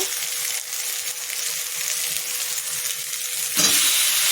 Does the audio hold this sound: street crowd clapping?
no